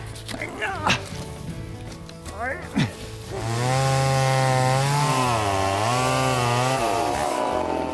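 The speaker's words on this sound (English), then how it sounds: "Working with the chainsaw is deadly serious business." A chainsaw starts up after a few knocks and clatters, then runs loud and steady, its pitch rising and dipping as it bites into firewood logs.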